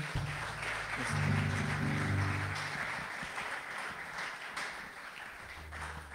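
A church congregation applauding and cheering for the Lord during a service, a faint wash of clapping under music, with a voice speaking.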